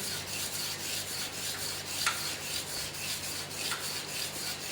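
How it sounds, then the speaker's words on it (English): A 120-grade emery sheet hand-polishing a low carbon steel workpiece in a workshop lab, producing a quiet, rhythmic rasping rub of repeated back-and-forth strokes, close and steady, with no voices. "So first step of polishing using the emery sheet"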